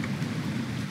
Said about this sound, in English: Of course it is raining again.